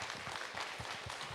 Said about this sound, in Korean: 우리 하나님께 박수를 한번 영광 올려드리겠습니다